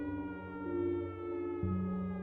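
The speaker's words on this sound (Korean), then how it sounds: "일주일쯤 지난 어느 날 밤 사이렌이 울렸고" A siren wails at night in a horror tale: a steady, loud, tonal electronic siren with harmonic layers, stepping abruptly between pitches in a short continuous burst, heard alone.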